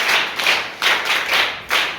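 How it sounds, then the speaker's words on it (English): A group of children in a classroom clap together in rhythmic bursts, several loud, close waves of applause-like hand claps spaced about every half second. "Clap again."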